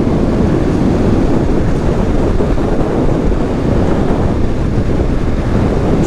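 Strong wind roars steadily past a rider on a Kawasaki Z650RS naked motorcycle at close to 60 mph, a loud, constant broadband rush with no talk.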